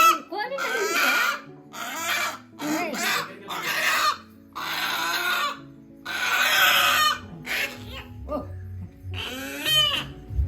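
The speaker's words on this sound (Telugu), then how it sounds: "కోడి తెచ్చారు చూద్దాం రాండి" Chickens cluck among a crowd at the Medaram Sammakka Sarakka Jathara festival in Telangana, mixed in with steady talk and laughter that fill most of the scene.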